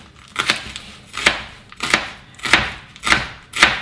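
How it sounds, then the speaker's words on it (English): A knife chops through leeks on a cutting board, six or seven crisp, evenly paced strokes, each a short crunchy thud, close and clear with no talking. "Just getting these leeks clean and chopped up"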